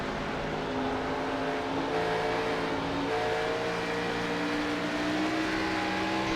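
Xfinity stock race cars lap Rockingham with the throttle held and modulated, a continuous engine drone whose pitch wavers up and down throughout, fairly loud and with no talk over it.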